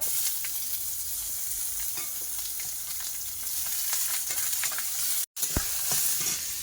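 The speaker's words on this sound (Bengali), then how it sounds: "আগে ভেজে নেব হালকা হালকা করে ভাজবো" Lentil badi frying lightly in oil, a steady close sizzle with faint scraping stirs, no talking, briefly cut to silence near the end before the sizzle resumes.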